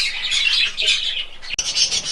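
Small finches chirp and squawk continuously nearby in a cage, a busy chatter of high calls with a brief rattle partway through.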